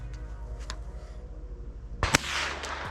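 A Citadel Trakr gun fires at an outdoor shooting range, one sharp loud report near the end with a brief double crack, over a steady low background rumble and faint earlier pops.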